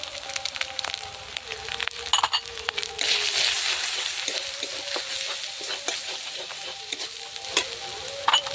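Ground cumin, coriander and red chilli powder sizzle and fry in a pan while a spatula stirs them steadily, with scraping clinks and a brighter burst of frying midway, close and continuous with no talk.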